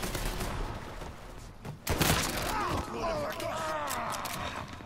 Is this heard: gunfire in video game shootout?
yes